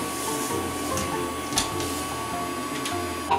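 A Casdon Henry toy vacuum cleaner runs with a steady, thin mechanical whir and hum, close by, with a couple of faint clicks and people talking over it.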